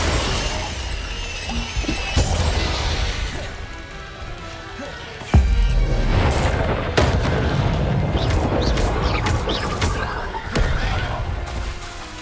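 Confringo blasting spell explosions in Hogwarts Legacy, several loud sharp blasts and shattering crashes spread across a busy duel, with voices calling out over the constant clatter of combat.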